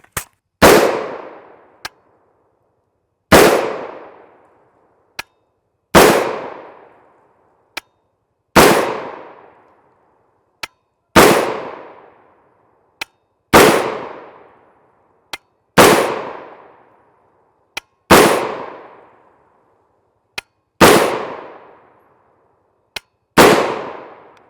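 Gunshots from a 7.5 inch PSA build rifle in .223 firing Fiocchi 55gr FMJ: about ten sharp, loud reports spaced a few seconds apart, each with a decaying tail and a faint click between shots.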